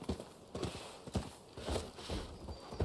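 Horse hooves galloping in the Rise of the Ronin video game, a rapid rhythmic clip-clop of repeated hoofbeats at a steady pace, moderately quiet and continuous throughout with no voices.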